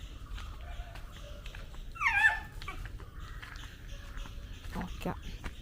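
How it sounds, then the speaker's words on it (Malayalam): A puppy downstairs gives a brief, high whimper that rises and falls, quiet and somewhat distant against low background noise and faint household sounds. "താഴത്തെ പട്ടിക്കുഞ്ഞു ഉഴയ്ക്കുന്നു."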